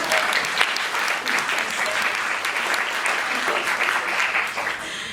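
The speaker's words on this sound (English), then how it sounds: "you can clap at that" An audience at a political talk breaks into steady, dense applause that fills the whole stretch, loud and close, with a voice faintly audible beneath the clapping.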